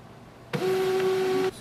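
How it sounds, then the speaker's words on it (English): An HP LaserJet MFP M233dw printer restarting gives a single steady electronic beep lasting about a second, clear and close after a brief mechanical click, with low room hum before it. "Your printer will restart, so just wait for that"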